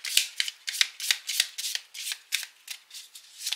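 Tarot cards shuffled by hand for a Capricorn monthly reading, a close, quiet run of quick papery riffles in an uneven rhythm, with no talk.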